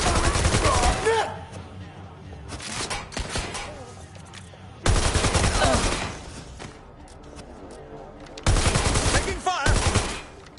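Gunfire in the video game Watch Dogs: Legion comes in loud, separate bursts of rapid automatic shots, with quieter gaps between them where voices and game sounds carry on.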